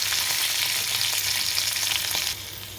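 Curry leaves and turmeric fry in hot oil in a pan for a charred plantain curry, producing a loud, even sizzle with faint stirring clicks, close up, dropping abruptly quieter near the end.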